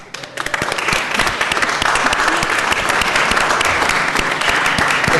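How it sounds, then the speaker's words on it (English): Dense, close applause erupts at a county Board of Supervisors meeting, a steady wash of many hands clapping loudly for several seconds after a brief quiet start. "Anybody want to applaud?"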